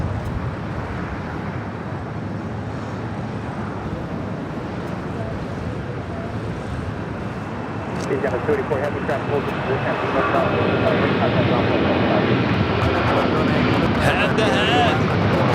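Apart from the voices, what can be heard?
Delta Airlines 767-300ER jet taking off at LAX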